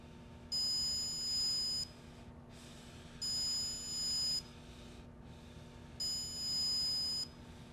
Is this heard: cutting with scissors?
no